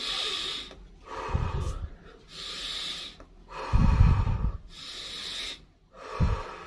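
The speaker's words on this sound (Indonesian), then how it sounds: "pakai napas begini-begini aja bisa teman-teman, direnggangkan dadanya." Deep breathing exercise to relieve bloating: a series of slow, audible breaths, with rushing inhales and exhales alternating with short pauses, some sharper snort-like intakes, close and fairly quiet.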